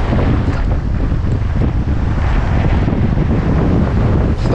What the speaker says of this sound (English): Wind is pumping a bit, but I'm fishing.